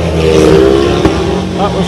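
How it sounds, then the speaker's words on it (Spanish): A speedway motorcycle accelerates hard during a race meeting with the Edinburgh Monarchs, its loud, steady engine roar rising in pitch under an excited commentator's voice. "Así fue Paco acelerando."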